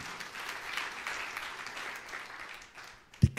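A church congregation applauds during a sermon, a broad even wash of clapping held at moderate level for a few seconds, ending with a sharp louder knock.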